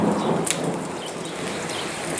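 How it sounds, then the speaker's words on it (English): Thunder rumbling during a rainstorm in the Mauritanian desert. A low, loud roll sits under the steady hiss of heavy rain, and a sharp crack breaks through early on. "That's our thunder."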